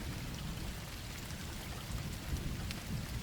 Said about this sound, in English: The drops hitting the glass, the rhythmic, heavy sound